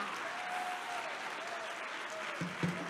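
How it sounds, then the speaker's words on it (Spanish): Church audience applauding a preacher's call, a steady wash of many hands clapping at moderate level throughout, with a faint sustained tone and a couple of thumps near the end. "Dele un fuerte aplauso al Rey de la Gloria."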